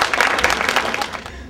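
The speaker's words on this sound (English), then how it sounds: "I want y'all to give a round of applause" An audience at a live neo soul show in Philadelphia breaks into a round of applause, dense clapping that holds steady throughout and tapers slightly at the end.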